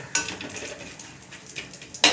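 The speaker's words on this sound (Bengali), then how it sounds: "এবারে দেখুন এতে হিং মৌরি আর শুকনো লঙ্কা দিয়েছি।" Asafoetida, fennel seeds and dried chilli frying in hot oil for a lentil dal, a soft crackling sizzle with sharper bursts at the start and end.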